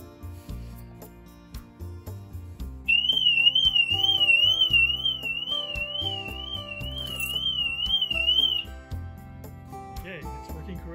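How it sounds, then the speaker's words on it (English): A BMW i3 car alarm, triggered by its infrared sensor, wails with a loud warbling electronic tone continuously for several seconds over a low background hum, then cuts off. "The infrared sensor should trigger an alarm"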